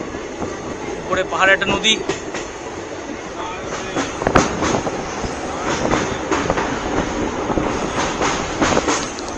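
Dooars Express intercity train rolling slowly through waterlogged forest near Alipurduar, a steady rumble with rhythmic clickety-clack and occasional sharp clanks, heard from on board with someone talking over it.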